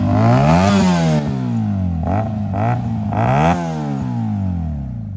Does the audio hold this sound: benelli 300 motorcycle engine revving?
yes